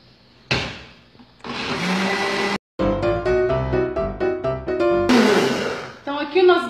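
An electric mixer beats churro cake batter in a home kitchen, its whir starting and stopping in loud bursts with brief gaps and uneven surges in pitch.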